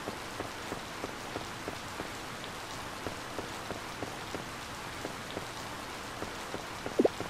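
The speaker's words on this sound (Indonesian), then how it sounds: "Alhamdulillah hujan." Steady rain falls on the farm in the Harvest Moon farming game, a dense even hiss with soft regular ticks of drops throughout and one brief sharper sound near the end.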